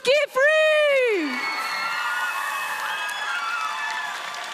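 A crowd at the NMN 2026 cosplay contest cheers and applauds the Best in Show winner. A loud, falling whoop opens the clip, and sustained cheering and clapping continue to the end.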